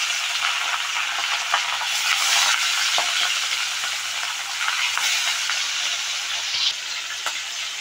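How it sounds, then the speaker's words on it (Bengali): Fish fries over high heat in oil in a kadai, a dense, continuous sizzle with occasional soft taps of stirring, close and fairly loud with no talking. "বেশি আঁচে মাছটাকে ভাজবেন"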